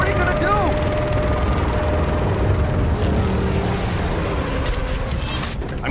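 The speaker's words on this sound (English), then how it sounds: "He's got an attack chopper!" An attack helicopter in the Batman: Arkham Knight video game roars with a loud, dense rotor and engine wash that fills the whole passage, with a few faint tonal game effects layered over it.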